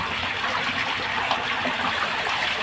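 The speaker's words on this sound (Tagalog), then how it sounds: "Ito yung aming tubig dito." Free-flowing water from underground pours in a steady, close, full rush of splashing with no break and no talk.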